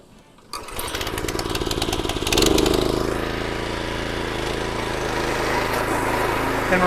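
Gas string trimmer starts up and runs steadily close by, a continuous buzzing engine whine with rising revs, trimming the perimeter of a freshly mowed residential lawn, no talking.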